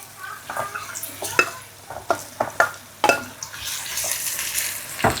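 Lokio (Chinese chives) are stir-fried in a pan with a spatula, giving repeated scraping strokes and clanks over a steady sizzle.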